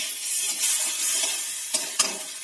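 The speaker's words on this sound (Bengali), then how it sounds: "সরষে বাটাটি কষিয়ে নিয়েছি" Mustard paste with wild mushrooms is sautéed in a pan and gives a close, steady sizzle and hiss. Two brief scrapes of a spoon stand out near the end.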